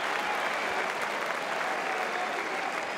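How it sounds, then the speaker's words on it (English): A Roland-Garros tennis crowd at a men's semi-final roars and applauds in a dense, steady wash of clapping and cheering that holds loud for the whole stretch. "You can hear the roar of the crowd."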